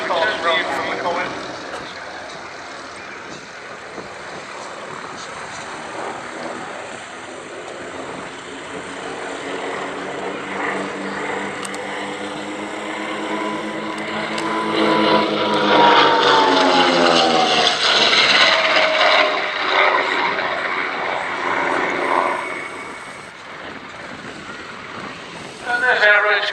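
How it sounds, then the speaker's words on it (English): A de Havilland Comet aircraft makes a fast low flypast at an Edwardian pageant airshow, its engine roar swelling to a loud peak midway and then fading, with a commentator talking over it throughout. "That's a fast run from the Comet."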